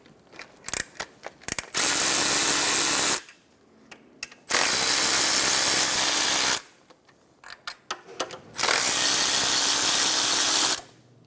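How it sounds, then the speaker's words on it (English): A powered driver with a 13mm socket spins out the AC compressor bracket bolts on a Chevrolet Sonic in three long, loud whirring bursts, separated by short clicks and handling noises. "We're going to use a 13mm socket to remove the 3 bolts for the AC compressor bracket"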